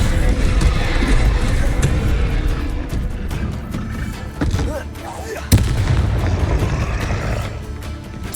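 Repulso and Descendo spells cast in Hogwarts Legacy, heard as loud booming blasts and whooshing impacts layered over game music and effects, with a sharp crack near the end.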